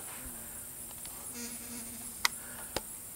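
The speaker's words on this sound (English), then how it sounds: "But if you look at this, there's a wood bee." A wood bee buzzes around a front porch, a faint low drone holding steady near the microphone, broken by two sharp clicks and no voices.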